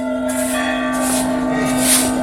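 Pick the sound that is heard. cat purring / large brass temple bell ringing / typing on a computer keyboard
large brass temple bell ringing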